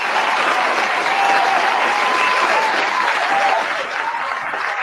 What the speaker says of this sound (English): Calvin, they still clapping.